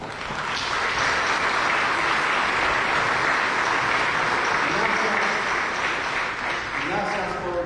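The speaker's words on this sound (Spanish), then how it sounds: "pueden ponerse de pie, por favor, para que la gente puede dar un aplauso a ustedes" A church congregation applauds its workers after they stand at Sunday Mass, steady dense clapping filling the room before a voice returns near the end.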